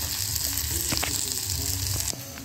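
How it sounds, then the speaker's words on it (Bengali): Chopped onion frying in a pan, a steady close sizzle with a few clicks of a spatula, the hiss dropping off abruptly near the end. "পেঁয়াজ কুচিটা অল্প ভেজে নেব।"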